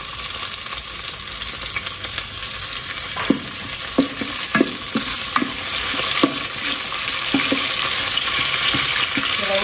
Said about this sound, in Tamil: வெங்காயம் வந்து ஒரு 2 நிமிஷம் வந்து வதங்கட்டும்.